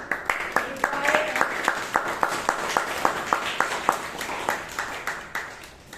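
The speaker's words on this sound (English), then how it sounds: "I would like everyone to give Toastmaster Amrith a huge round of applause" Attendees at a Toastmasters meeting give a round of applause, with steady, rhythmic clapping of roughly three claps per second that carries on for several seconds, with faint talk in the background early on, then fades toward the end.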